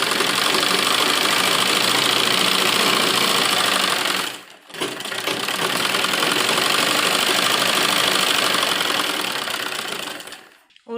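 A sewing machine runs loud and close as it stitches lining into a heavy-work suit, a fast continuous whir that pauses briefly midway, then resumes before stopping at the end.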